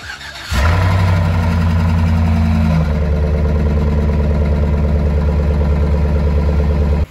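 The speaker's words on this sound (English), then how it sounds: "The truck is really loud today." A truck engine starts abruptly and settles into a loud, steady, throbbing idle close by, during a blizzard, with no talking.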